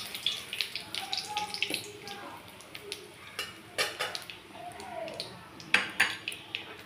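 Dry red chilli, five-spice and bay leaf are stirred in hot oil in a pan, with repeated close metallic scrapes and clinks of a utensil against the pan over a quiet sizzle.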